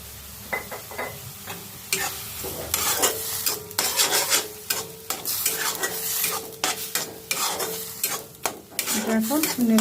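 Beetroot with salt and mustard oil is stirred in a pan, a spoon scraping and knocking against the metal in repeated loud strokes over a low sizzle, with no talking.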